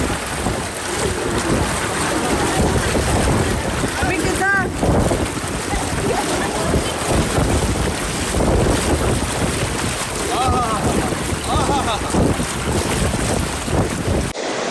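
Steady broadband wind buffets the microphone on an open cruise ship deck at sea, loud and continuous for the whole stretch, with faint voices talking underneath.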